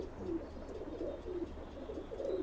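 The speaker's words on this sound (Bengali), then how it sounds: "ইলিয়াস ভাই এই এই জোড়া কি কবুতর" Pigeons coo in repeated soft, rolling phrases close by, over a constant low background hum.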